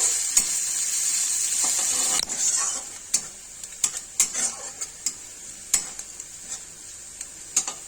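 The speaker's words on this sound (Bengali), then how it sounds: "এখন আমি পেঁয়াজগুলি দিয়ে দিলাম। এখন পেঁয়াজটা একটু বাদামি কালারের হবে।" Onions frying in a pan with mustard-seed spice mix for a potato, brinjal and egg curry, giving a bright sizzle that fades after a couple of seconds into scattered clinks and scrapes of a spatula against the pan.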